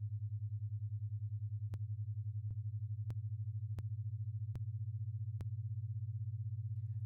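Two low sine tones beat rapidly, their fast amplitude wobble turning a steady hum into a rough, buzzing drone with a few faint clicks along the way.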